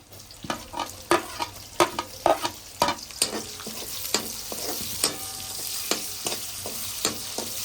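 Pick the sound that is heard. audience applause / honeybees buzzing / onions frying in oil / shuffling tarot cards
onions frying in oil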